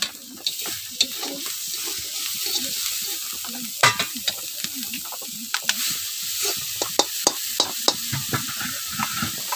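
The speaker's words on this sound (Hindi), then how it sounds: "अब अदरक का पेस्ट डालेंगे।" Ginger paste is stirred into a fish egg curry frying in a pan, giving a steady close sizzle with spoon scrapes and clinks repeating throughout.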